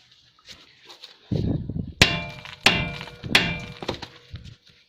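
Three heavy metallic blows on a seized brake caliper of a Honda S-MX, each ringing sharply and then decaying, spaced under a second apart, near and loud after some rummaging clatter.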